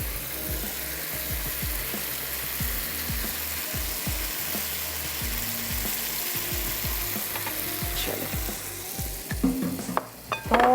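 Tomato masala for achaari bhindi sizzles and fries steadily in olive oil, with repeated scraping strokes of a spoon stirring the pan throughout, and a few louder clatters near the end.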